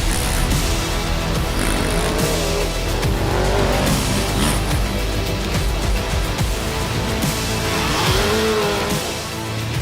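Off-road race vehicles at the Baja 1000 roar continuously with loud engines, revving and passing drive-bys, dense and close throughout.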